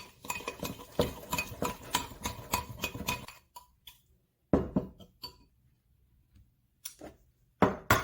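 Melted butter and sugar being stirred in a bowl for banana bread, giving quick repeated clinks and scrapes of a utensil against the bowl, steady at first and then in scattered bursts with short pauses.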